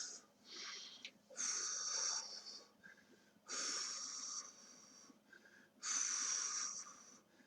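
Several people blow out forceful breaths during a judo taiso warm-up, three long hissing exhales in a slow rhythm with short breaths between them, fairly faint in a quiet room.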